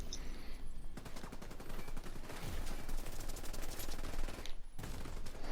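A turret in The Division 2 firing long continuous bursts, a dense rattling stream of shots that runs almost without pause, briefly breaking off near the end, loud and without any talk.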